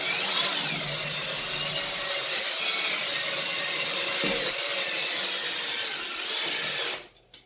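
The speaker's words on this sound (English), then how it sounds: "let the drill do the work." A drill-powered cleaning brush scrubs steadily against a surface, a continuous close abrasive whir that stops abruptly near the end.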